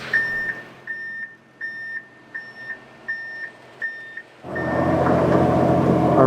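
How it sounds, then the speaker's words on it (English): A concrete truck arriving at a construction site for a large slab pour, sounding about eight evenly spaced reversing beeps, followed by a sudden loud surge of diesel engine rumble close by. "So no sooner did I turn off the camera and our first concrete truck has arrived."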